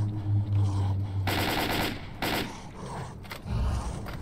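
Bursts of automatic gunfire from the shooter game STALKER: Call of Pripyat rattle in rapid clusters, mixed with thuds and mechanical game sounds, fairly loud and continuous throughout.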